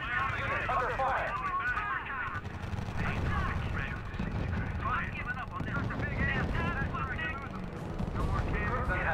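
Artillery and gunfire in the World War II strategy video game R.U.S.E., a steady rumble of distant shelling and shots running throughout, with radio-style unit voices speaking over it.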